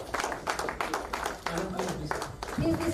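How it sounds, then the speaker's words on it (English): Audience at an alumni get-together clapping for a former teacher: a dense, steady patter of many hands lasting the full few seconds, with voices talking over it. "Applause to madam, please."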